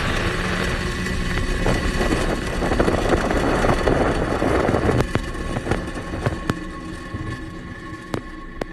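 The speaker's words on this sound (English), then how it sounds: "Ignition. And Falcon-9, go Korea 425, go SpaceX." A SpaceX Falcon 9 rocket igniting at launch produces a heavy, continuous roaring rumble that builds and then thins out. Sharp crackling pops cut through it toward the end.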